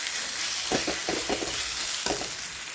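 Cooked masoor dal with methi mixed in a pan over a constant loud sizzle, with a few quick soft scraping strokes of the spoon close by and no talking.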